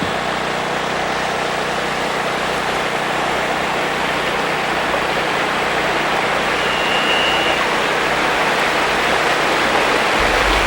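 Fresh meltwater from a glacier rushes past a remote Alaskan camp in a continuous broad hiss, close and steady throughout, with a faint low rumble at the very end and no speech.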